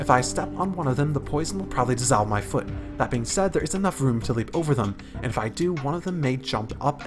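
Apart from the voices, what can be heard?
No everyday noises stand out.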